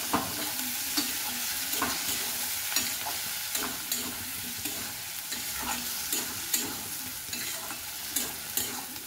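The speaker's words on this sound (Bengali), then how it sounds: "আলুটা দিয়ে 1-2 মিনিট মতো আবার কষিয়ে নিতে হবে।" Fried potatoes are stirred with spices in a hot pan, giving a steady sizzle broken by repeated scraping strokes of a spoon in a quick, uneven rhythm. The sound is close and continuous, and nobody speaks.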